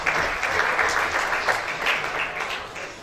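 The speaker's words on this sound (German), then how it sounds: "ein kleiner Applaus, haben die Coaches Sicherheit verdient" Short round of applause for the coaches at a German football club press conference after a match against SV Buchonia Flieden, steady dense clapping from a small room audience for about three seconds.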